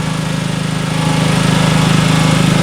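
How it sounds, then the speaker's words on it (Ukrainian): A 2.7 kW pull-start generator runs close and loud, a steady buzzing engine drone with a fast, even pulse and no pauses. "Ось такий генератор."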